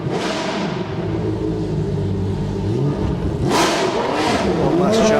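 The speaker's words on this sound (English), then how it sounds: "One last chance to see and hear these cars as they come back to the paddock." Historic racing cars roll back to the paddock after a track session at a revival meeting in Dubai, their engines loud and near. The engine notes rise and fall steadily as the cars pass in turn.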